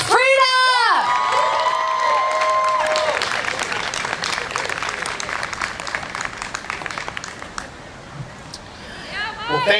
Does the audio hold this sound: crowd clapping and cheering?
yes